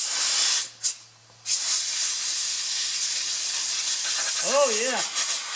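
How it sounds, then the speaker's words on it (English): Compressed air from an air compressor blasts onto a space heater that isn't heating, a loud steady hissing rush that briefly cuts out and restarts, with a warbling tone near the end. "I'm going to blow on it with the compressed air"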